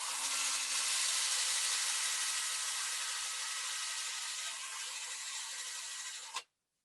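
A silicon carbide nylon bristle brush held against a hand-turned woodturning piece gives a steady, close, broadband scratchy rasp that runs evenly for about six seconds, then stops abruptly.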